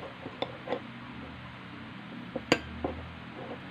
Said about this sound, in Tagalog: So yung kamatis, hiwain lang natin ng ganito.